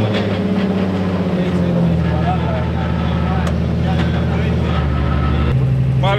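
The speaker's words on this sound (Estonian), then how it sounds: "see auto heli" A Nissan 350Z engine running steadily up close, a loud continuous rumble with a shift in pitch near the end, while people talk over it.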